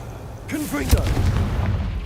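Confringo spell blast from Hogwarts Legacy, a sudden booming burst just before the one-second mark with a sustained rumble trailing after it, and a voice speaking over the start.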